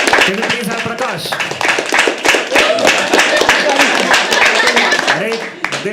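A crowd claps together in a dense, steady patter, with voices and a few laughs mixed in throughout.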